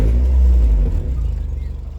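Ford Fiesta ST150 on lowering springs driving, a deep close engine rumble heard from inside that eases off partway through into a pulsing, lighter drone.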